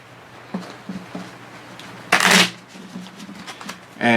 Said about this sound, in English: You can shuffle it again if you want.